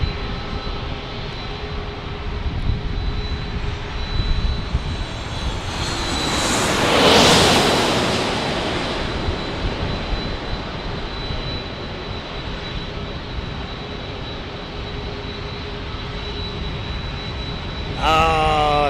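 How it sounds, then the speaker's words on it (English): A Southwest Airlines Boeing 737 MAX 8 lands directly overhead at a San Diego airport, a loud sustained jet roar that swells to a peak as it passes low above, then fades into a long rumbling wash. "the Southwest that's landing over my head is from Chicago Midway in a"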